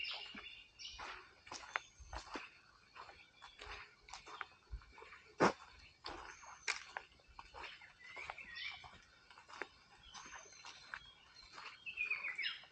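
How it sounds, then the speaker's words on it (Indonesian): Birds chirp and call in short bursts along a mountain hiking trail on Gunung Abang, scattered near and far, with sharp tweets over quiet open air and no talk. "kehadiran suara burung-burung yang akan menemani perjalanan"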